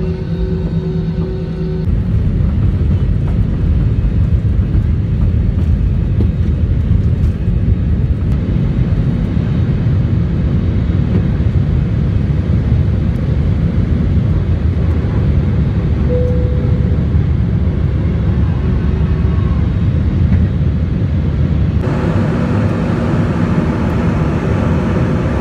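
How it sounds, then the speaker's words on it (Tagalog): Steady, loud cabin roar of an airliner cruising at about 900 km/h on a flight from Pagadian to Manila, a continuous low rumble and whoosh with no talk. "Mabilis yung takbo ng aeroplano guys, umabot na 900 km/h."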